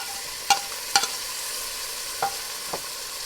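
Tomato tossed into garlic and onion frying in a pan for Filipino ginisang sayote, a faint sizzle with a few sharp clinks and scrapes of stirring spaced across the moment.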